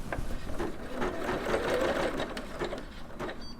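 A Singer Legacy SE300 embroidery machine stitches a design with a steady rapid mechanical whir and needle chatter, moderately quiet and close, with no talking.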